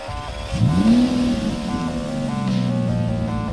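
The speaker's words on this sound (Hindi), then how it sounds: "परेश ने अपनी गाड़ी की चाबी घुमाई और अपने घर की ओर बढ़ा।" A car engine cranks and catches, then settles into a steady idle rumble that continues to the end.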